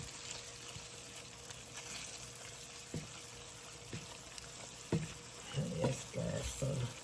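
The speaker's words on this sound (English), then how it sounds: "Let's give it a nice stir as everything incorporate" Shrimp curry pasta being stirred in a pot: faint scraping and soft wet sloshing with a few light knocks, growing into louder splashy stirring strokes toward the end, over a low background hum.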